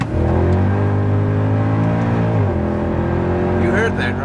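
A Mercedes W204 C63 AMG engine roars loudly at full throttle, holding a strong steady drone that dips and bucks as traction control cuts power, with a voice speaking over it.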